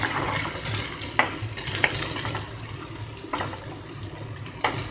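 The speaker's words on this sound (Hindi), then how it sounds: "साथ में डालेंगे दो कटी हुई हरी मिर्च, प्याज, एक बड़ा कटा हुआ प्याज, और इसको अच्छे से ब्राउन करेंगे।" Chopped onion and green chilies frying for poha while being stirred, a continuous close sizzle broken by a few sharp scraping clacks of the spoon against the pan, with no talking.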